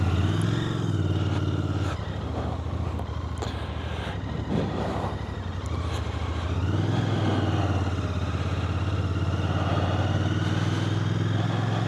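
A 2025 Royal Enfield Bear 650 motorcycle engine burbles at idle, a steady, close, low rumble that dips slightly and then settles again.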